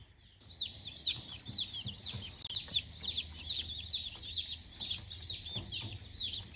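About ten baby chicks in a brooder bin peep continuously, a dense chorus of high, bright chirps repeating quickly and close by with no talk.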